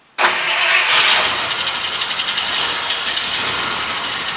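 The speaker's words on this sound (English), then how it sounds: "That was just you hitting the gas." A classic car engine with a carburetor needing a rebuild revs sharply as the gas is pressed, a sudden loud roar that holds, close and alone.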